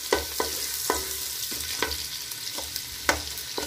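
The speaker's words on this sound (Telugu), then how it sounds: "ఈ ఉల్లిపాయ మంచి గోల్డెన్ రంగు వచ్చే వరకు వేయించుకోవాలి." Thinly sliced onions fry in a pan with cumin, a soft steady sizzle broken by occasional sharp scrapes of a spoon stirring, close but quiet, with no talk.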